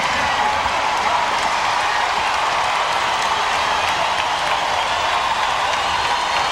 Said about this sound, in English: This is the most excited I've seen a Spark crowd